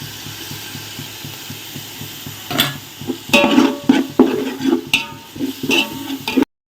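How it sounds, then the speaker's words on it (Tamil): Tomatoes with garlic and ginger-garlic paste being sautéed in a pan, a steady background sizzle broken by scraping and clinking stirring strokes from a spatula, close and fairly loud. "ரெண்டு தக்காளி பழத்தையும் போட்டு வதக்கலாம் கூடவே நம்ம இஞ்சி பூண்டு பேஸ்ட்டையும் இதில் போட்டுடலாம்"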